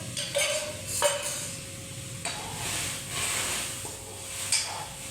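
Homemade tomato ketchup being stirred in a pot in a village kitchen: a spoon scrapes and clinks against the metal now and then over a steady soft hiss of simmering, close by with no talking.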